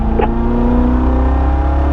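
A race car on a driving course, run through the gears toward a fifth-gear top end of about 119 mph, with a steady loud engine drone held on throttle and a brief bump in tone near the start.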